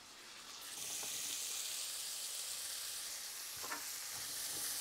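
Aromatic vegetables and onions sweating in butter and veal cooking fat in a pan, a soft continuous sizzle that rises in the first second and holds steady, with a few faint stirring scrapes.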